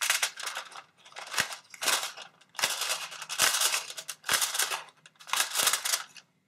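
A hole punch snaps through junk mail paper repeatedly, punching out circles, about eight sharp crunching punches in an uneven rhythm, close and loud.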